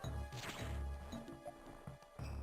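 A bomb blasts a destructible block in the Game Boy Advance game Metroid Fusion, giving a sharp crunchy burst over looping game music and other short effects.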